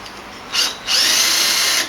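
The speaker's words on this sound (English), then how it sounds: "they're self-drilling, self-tapping screws. And I found they work really well going into this end grain of the plywood" A power drill drives self-drilling, self-tapping screws into the end grain of plywood in a workshop, with two close, loud bursts of whirring: a short one, then a longer sustained run.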